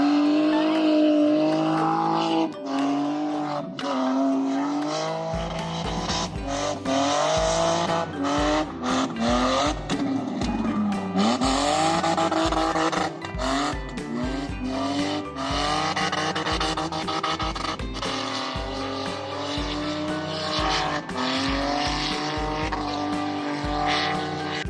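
A car being driven hard at a driving event, its engine revving up and down repeatedly with tires squealing, loud and close throughout.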